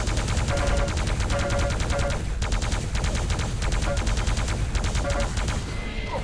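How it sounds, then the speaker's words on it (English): Plasma gun firing in Quake Live, a loud, rapid stream of repeated zapping shots in quick rhythmic bursts, with brief gaps and other game effects layered in. "this plasma gun's really good"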